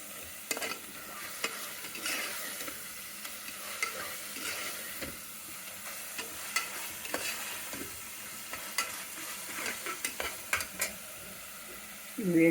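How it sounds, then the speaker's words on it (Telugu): Rice fries in a pan with mint and coriander leaves for bagara rice. A quiet, steady sizzle runs underneath repeated scraping and clinking strokes of a spoon stirring the grains. "2 నిమిషాలు వేగాలి బాగా."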